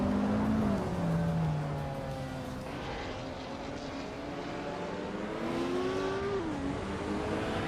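Racing cars in a racing video game, including a 1995 McLaren F1 GTR, roar off the start at the Denver Pepsi Center track, a loud, steady layered engine drone with rising and falling revving tones, close and continuous, no voices.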